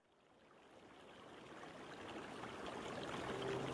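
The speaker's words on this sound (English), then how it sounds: "so it sounds like water, and there's a bit of music" Free massage and spa relaxation track of flowing water, a steady broadband wash that swells gradually louder, with soft music faintly underneath.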